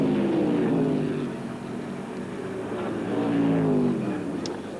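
Race car at the 1978 Australian Grand Prix at Sandown accelerating away, a droning engine note that rises and falls, heard fairly clearly at moderate distance.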